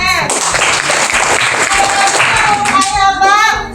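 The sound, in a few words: applause and clapping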